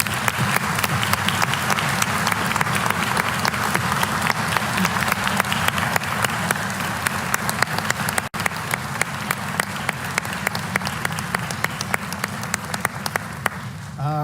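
An audience at a State of the State Address applauds steadily in a large hall, a dense and continuous roar of clapping that runs on at full strength before cutting off abruptly at the end.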